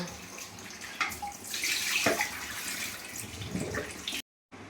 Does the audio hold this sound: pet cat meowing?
no